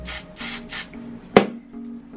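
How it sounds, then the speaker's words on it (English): Three short hissing bursts of hairspray onto an eyebrow spoolie in quick succession, close up, followed by a sharp click and quiet. "I take the little spoolie and I spray it with hairspray"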